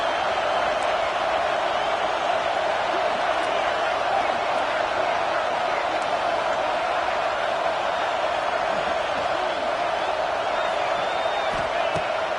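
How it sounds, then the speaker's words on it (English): Loud, steady stadium crowd roar at a Tennessee Vols versus Oregon Ducks college football game, a dense unbroken wash of noise holding for the whole stretch with scattered shouts and whoops inside it. "This crowd trying to make life miserable for this offense."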